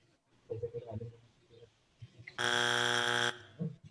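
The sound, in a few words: game show wrong-answer buzzer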